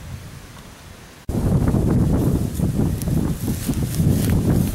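Wind gusts hard across the microphone at an outdoor dig site, cutting in suddenly after a quieter start and then roaring steadily as loud, rumbling buffeting with no speech.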